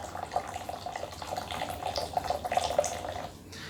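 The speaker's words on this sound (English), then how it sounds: "Oh, it is hot, so I'm gonna pour high to try to cool it off a little bit." Hot water for organic Yunnan moonlight white tea poured from high up, a steady close splashing trickle running for several seconds before tapering off at the end.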